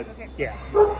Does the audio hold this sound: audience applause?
no